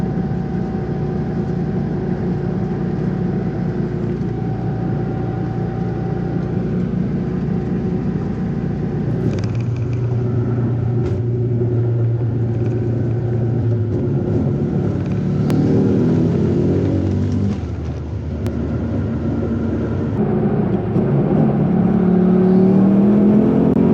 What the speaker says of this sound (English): So we got about an hour and a half drive ahead of us.